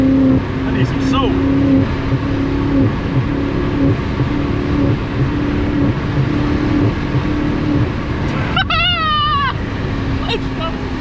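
A BMW F90 M5 sedan drives along with a steady, droning engine note heard from inside the cabin, holding even for most of the stretch, while someone talks over it now and then.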